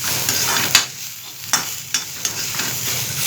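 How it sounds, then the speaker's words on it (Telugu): Fresh coriander leaves frying in a pan for a coriander tomato chutney, a steady close sizzle with occasional sharp spatula scrapes spaced irregularly through it. "తర్వాత కొత్తిమీర వేయించుకుందాం."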